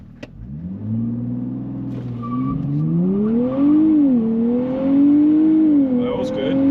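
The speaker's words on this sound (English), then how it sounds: "when you're ready, just go paddles, throttle, and launch" A 2023 Nissan Z launching with paddle shifters, its engine note climbing through the revs with a shift partway through, loud and close from inside the cabin.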